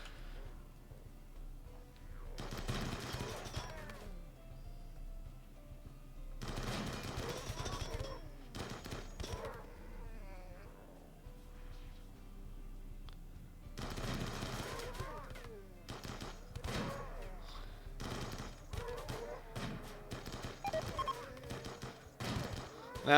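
Colony guns fire in RimWorld on a sea ice map, in repeated loud volleys of rapid shots separated by brief lulls, with scattered single reports and game effects between bursts.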